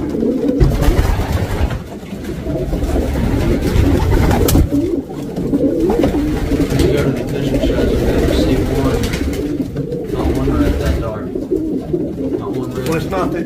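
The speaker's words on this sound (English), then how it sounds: "this is a family of pigeons" A family of red pigeons coos in a loft, soft throaty calls layered over a steady dense rumble of birds and room noise, continuous and fairly loud throughout.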